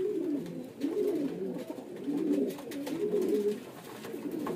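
Pigeons offered for sale, with red and black speckled feathers, coo in repeated low rolling phrases close by, several calls in a row with little else around them.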